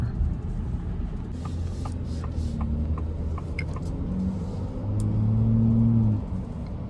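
Steady low engine rumble and exhaust drone from a 2024 Ford F-150 Raptor pickup truck, heard from inside, swelling louder briefly near the end before settling.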